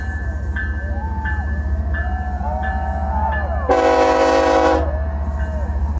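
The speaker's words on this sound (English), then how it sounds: "Trump is arriving in his choo-choo train." An arriving train rumbles low and steadily throughout, with faint squealing tones and one loud horn blast of about a second near the middle.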